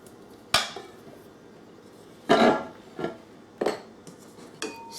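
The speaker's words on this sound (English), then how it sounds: "You're going to take a bowl and you're going to add in your flour" A mixing bowl is handled while flour goes in, giving four or five sharp ceramic or metal clinks and knocks spaced irregularly over a quiet kitchen background, with no talking.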